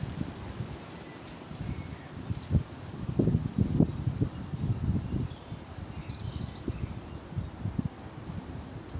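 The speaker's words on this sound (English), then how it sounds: "You can really hear the wind now." Strong wind blowing outdoors, with continuous low rumbling buffeting and rustling that swells in gusts, heard close and loud without talk.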